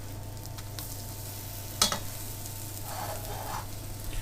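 Organic blueberry pancakes sizzle in a frying pan with a steady, close frying hiss, broken by a brief clatter of a utensil partway through.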